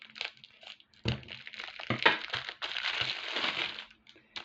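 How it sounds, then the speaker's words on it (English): Scissors cutting through chunky textured metal chain, giving close crunching and cracking snips with clinking links in irregular bursts, fairly quiet, with no talking. "Let's see if I can cut this with my scissors."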